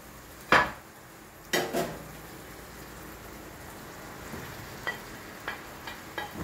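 Vegetables (aubergines, courgettes, carrots, peppers) added to a pot on the stove: a sharp clatter and a couple of splashy drops, then a steady soft sizzle with scattered small clinks, alone and fairly quiet.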